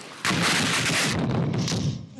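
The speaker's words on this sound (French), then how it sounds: "une deuxième bombe explose" A bomb blasts a few metres from a wounded man during the fighting in Idlib, Syria, a sudden loud burst that rumbles on for about a second before fading into lingering debris and background noise.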